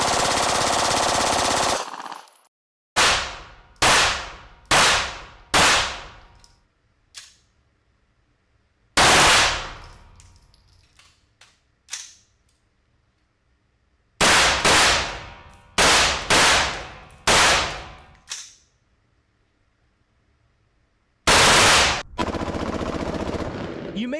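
A Glock handgun fitted with a switch fires in fully automatic bursts, several sharp rapid volleys with echoing decays and silent gaps between, loud and close, with a louder noisy stretch at the start and end.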